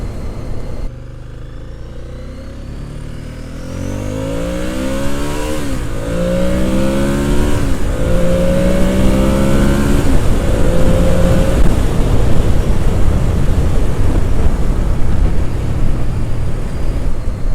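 Ducati S4R motorcycle engine revving hard, loud rising and falling pitch sweeps through repeated throttle bursts and gear changes, building into a sustained roar over wind noise with no talk.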